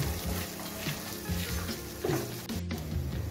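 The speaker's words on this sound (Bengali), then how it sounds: "এখন গ্যাসটাকে মিডিয়ামে রেখে মাছটাকে অনবরত নেড়ে চেড়ে মাছের গায়ে যে জলটা আছে সেটা শুকিয়ে নিয়ে" Loitta fish sizzling in a pan over a medium gas flame while being stirred, a steady frying hiss under soft, repeated scraping of the spatula.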